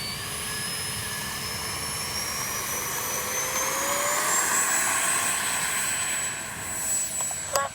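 A Freewing F-22 RC jet spools up for takeoff with a loud whining turbine-fan roar and rising high tones, sustained and close, swelling slightly before a sharp knock near the end.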